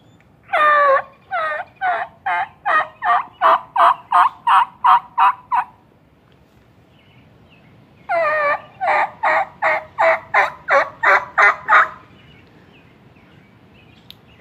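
A person uses a turkey mouth call to imitate a turkey gobble. Two loud, close bursts of rapid, rattling gobbling notes, about a dozen each, are separated by a short silence.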